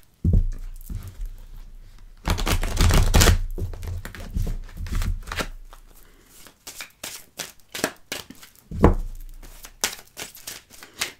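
An advice card deck being handled, with repeated riffling shuffles and soft papery slaps and flicks of cards, close and fairly loud, arriving in irregular bursts before a card is drawn.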